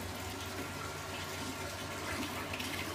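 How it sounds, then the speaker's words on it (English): Pump pushing sterilising liquid through a home all-grain brewing kettle and heat exchanger, a steady close whooshing flow of liquid with a low motor hum underneath, continuous and even throughout, with no voices. "Now we're just pumping the sterilising agent through this pump, into the kettle, out of this pump, through the heat exchanger, into the bucket"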